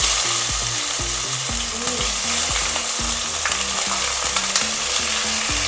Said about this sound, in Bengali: আমি পনিরগুলো প্রথমে ভেজে নিলাম